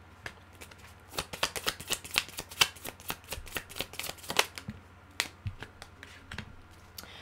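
Tarot cards being shuffled by hand to draw a card, heard as a run of quick, crisp riffling flutters and taps in irregular bursts, close and fairly quiet, with no voice.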